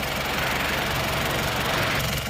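A worn Isuzu Panther 2.3 diesel engine with broken piston rings idles steadily with a rough, loud, even knocking rumble throughout and no talking.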